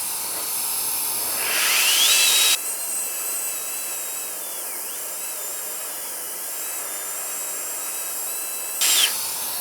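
A cheap turbo jet fan fitted with its standard nozzle blows air in a steady, loud, even hiss, with brief louder surges near the start and end as it revs, and no voices.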